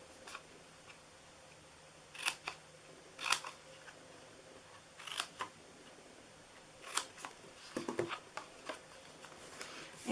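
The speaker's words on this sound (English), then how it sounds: "so now we are going to cut on the sides here. I'm going to cut a bit out of each one" Scissors snip paper sides for a Halloween treat holder, producing short crisp cuts in scattered clusters against a quiet room, fairly close and soft.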